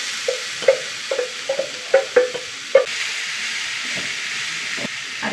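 Mustard seeds crackle and pop sharply in hot coconut oil alongside spring onion stalks, a quick run of close, distinct spatters over a soft steady sizzle that thins out toward the end.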